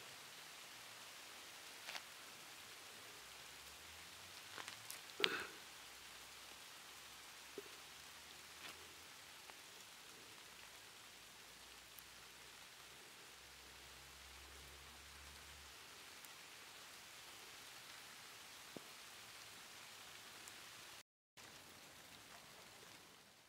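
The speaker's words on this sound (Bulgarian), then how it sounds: "заваля дъжд" Steady rain falls outdoors in a garden where dill is being picked for oven-baked zucchini, a soft continuous hiss of drops on surfaces with a few louder knocks and rustles, no voices.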